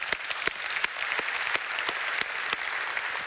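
An audience at a church service claps steadily throughout, a dense, even patter of many hands with occasional sharper individual claps and no speech over it.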